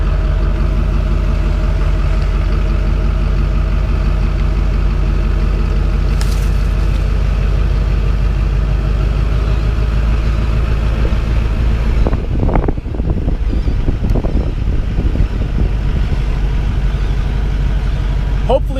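A Duramax diesel pickup with an aftermarket exhaust rumbles steadily at idle, a low constant drone with wind buffeting, then a few sharp squeaking bursts near the end.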